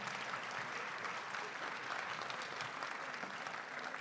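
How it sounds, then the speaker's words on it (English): Audience applause for volunteers at a Martin Luther King Jr. celebration, a dense, even burst of clapping from a crowd lasting a few seconds at a fairly distant, moderate level. "So give them a round of applause."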